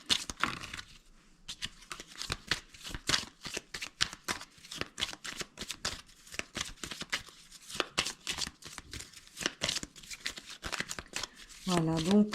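Tarot cards being cut and shuffled by hand, a rapid series of close crisp riffling and flicking bursts with short gaps, while someone speaks softly in French.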